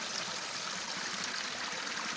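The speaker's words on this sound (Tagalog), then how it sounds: "bukal ng tubig dito sa Mapaso" Water flows steadily from the Mapaso hot spring in Irosin, Sorsogon, a constant hissing, trickling rush with no breaks, moderately close and even in loudness, with no voices.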